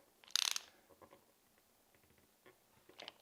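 Ratchet wrench with a 1/2 inch socket tightening pickup hardware on a Silverburst Dean ML guitar gives a loud burst of rapid clicks, then a few faint ticks and a second short clicking run near the end.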